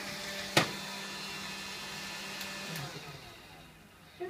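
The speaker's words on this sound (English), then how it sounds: "need to hoover this up" A vacuum cleaner hums steadily through a cleanup, a sharp click near the start and a few small knocks later, with no talking over the motor.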